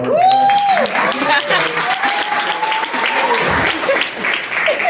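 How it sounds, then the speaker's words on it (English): Audience applauding as a crowd, clapping mixed with whoops and cheering voices; tonal shouts rise over the steady clatter of hands, which stays loud and close for several seconds. "give yourself a round of applause for that"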